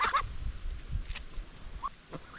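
Geese on a homestead give a few short honks and calls, fairly faint, spread across a busy outdoor background.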